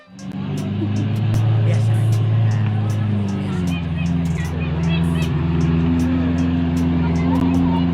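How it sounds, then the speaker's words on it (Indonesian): A luxury Lamborghini rolls along a village road during the Eid homecoming trip, its engine humming steadily and close. Voices and children's chatter mix in underneath throughout. "terlihat pria tersebut sedang melewati jalanan desa dengan mobil mewahnya tersebut"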